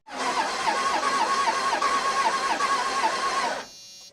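A Cummins diesel engine that sat for years cranks over steadily in a rhythmic, pulsing grind for about three and a half seconds with injectors pumping, then stops abruptly, leaving a low hum.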